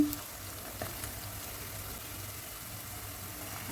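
Ginger garlic paste fries in oil for an egg pulusu curry, a faint, even hiss of sizzling with a brief knock near the start.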